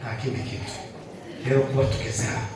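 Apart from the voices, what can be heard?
No everyday noises stand out.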